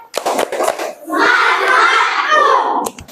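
An elementary class claps the Indonesian 'tepuk semangat' cheer, a burst of rhythmic group clapping from many children that follows a stretch of a teacher's voice and ends abruptly.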